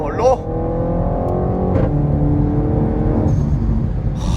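A Renault Megane 4 RS Trophy with Stage 2 tuning revs hard and then lifts off, the engine note dropping into a crackling release with pops, loud and close, while people talk over it.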